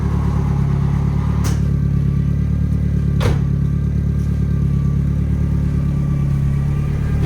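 A Nissan S13 with a CA18DET engine runs loud and close on its first drive, with a steady droning engine note and a couple of sharp knocks or clicks over it.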